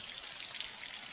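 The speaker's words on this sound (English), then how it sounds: "Water's running." Rainwater runs steadily through a flooded homestead backyard, a continuous bright trickling and gushing hiss with no pauses and no voices.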